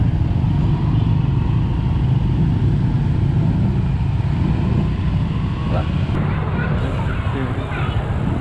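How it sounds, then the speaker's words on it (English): Busy street traffic with many scooters and motorbikes in Vietnam near Rach Gia, a steady loud engine roar and hum filling the scene continuously from start to finish. "Lots of scooters, what a surprise."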